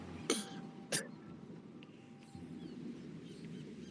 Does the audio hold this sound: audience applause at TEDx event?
no